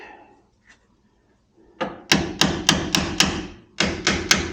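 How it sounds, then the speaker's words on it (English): A hammer knocks out rear axle bolts on a Ford Model T, with one lighter tap followed by a series of sharp, loud metallic blows in a steady rhythm, a short pause, then three more strikes. "Took these bolts off, and then I'm gonna knock these out."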